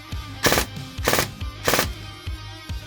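A pistol set to three-shot burst fires about three sharp bursts in quick succession, each a short clattering crack, evenly spaced and close by.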